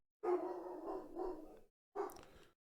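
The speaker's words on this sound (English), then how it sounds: "Trying to figure out what my dog's barking at." A pet dog named Lamb barks outdoors, two drawn-out, moderately distant woofs separated by a short pause, with no talking over them.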